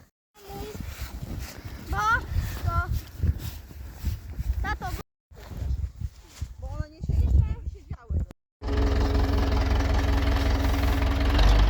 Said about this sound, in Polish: Traktor odpalony